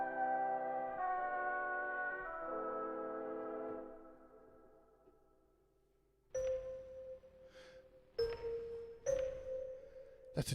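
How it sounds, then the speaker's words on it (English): A doorbell chimes in several short tonal rings in the second half, following a soft, fading keyboard chord in an otherwise quiet room. "That's a doorbell."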